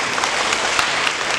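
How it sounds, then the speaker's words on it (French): Dense, steady applause from a crowd at the investiture ceremony of a community chief in Côte d'Ivoire, loud and close throughout with no pauses. "On va l'applaudir."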